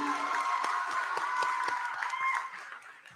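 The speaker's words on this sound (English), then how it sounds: "Let's give another round of applause for this group" A crowd at an 8th grade promotion ceremony applauds the graduating class, steady clapping with scattered sharper claps over a sustained musical tone, tapering off in the final second.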